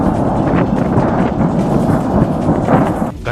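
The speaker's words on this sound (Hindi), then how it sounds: "धुएं के साथ डिपो से आ रही धमाकों की गूंज ने इलाके के लोगों को खौफ से भर दिया।" Explosions at a burning weapons depot heard as a continuous heavy rumbling roar, dense and loud throughout with no clear gaps, no voices.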